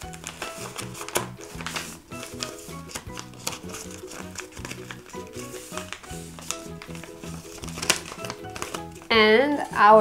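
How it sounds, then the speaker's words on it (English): A sheet of paper is folded into a paper airplane, with close crisp crinkles, creases and rustling taps in quick irregular bursts, ending in a louder crumpling rush; a voice briefly sounds near the end. "the last trick is to make an airplane from the piece of paper. We have to bend again to the middle."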